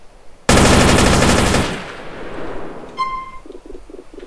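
A single loud burst of rapid automatic SMG fire in the video game GTA San Andreas, with an HD weapons mod, stands alone for about a second before fading into a ringing tail and a few soft electronic tones.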